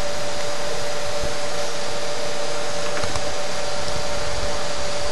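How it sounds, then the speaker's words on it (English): A shot blast cleaning machine held to a concrete wall by suction from its vacuum dust collector gives a loud, steady, unbroken roar and hiss with a faint tonal whine throughout, no voices. "The machine is held to the wall by the vacuum from the dust collector."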